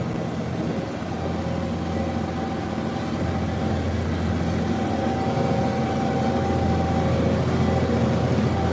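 A tractor engine labours steadily uphill under heavy pull, a loud, continuous low drone with a constant hum and no voices.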